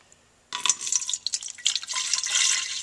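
Water poured into a plastic pump sprayer to make window tinting solution: after a near-silent start, a close, steady splashing and trickling stream begins and carries on to the end.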